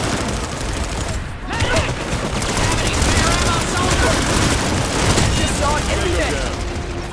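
Rapid bursts of automatic gunfire in a shooting video game, loud and dense, clattering almost nonstop with brief gaps.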